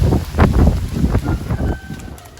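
Strong wind blowing outdoors, a loud, rough rushing that swells and buffets against the microphone in gusts for the whole stretch, then eases slightly toward the end.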